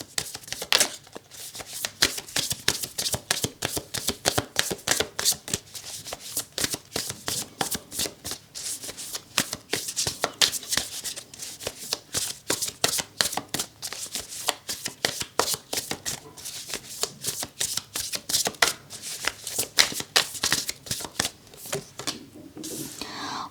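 Tarot cards are shuffled continuously in quick, dense, crisp flutters close to the listener, with a steady rhythm and a faint voice now and then underneath.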